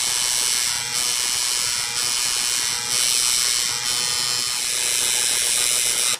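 A tattoo machine buzzes steadily and close while shading in black ink, a continuous high mechanical whine with slight pulses in intensity and no talking.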